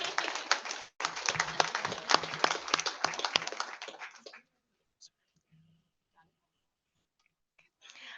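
Applause from a crowd, dense steady clapping for about four seconds that then stops abruptly, followed by near silence with a few faint clicks.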